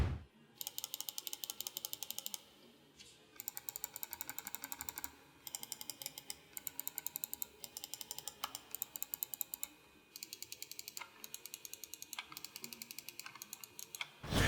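Computer mouse buttons are clicked during a sound test, with rapid bursts of sharp, close, plastic clicks in fast runs separated by short pauses, faint overall and without talk.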